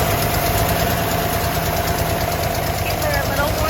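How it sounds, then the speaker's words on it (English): The engine of a 1978 Toyota FJ40 idles close by after starting, a steady, loud mechanical rumble with a slight knock and a constant high whine over it. "I'm gonna get that engine started."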